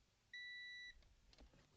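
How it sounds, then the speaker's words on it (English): A single steady electronic beep from a multimeter in a restomod workshop, clear and loud for about half a second, followed by quiet room noise. "a little celebration beep for this multimeter"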